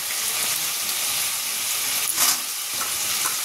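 Bottle gourd goes into a pan of fried prawns and sizzles steadily at close range, with a brief louder hiss and stirring scrape partway through and no talking.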